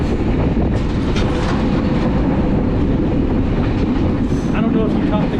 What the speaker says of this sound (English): while I'm sitting here enjoying my train